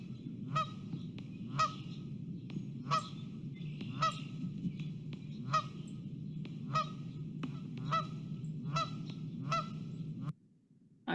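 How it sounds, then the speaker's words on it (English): Geese honk loudly and repeatedly in a steady, uneven rhythm over a dense low murmur, with roughly a dozen sharp calls before the sound cuts off abruptly near the end. "there were lots of videos of geese also storming different humans"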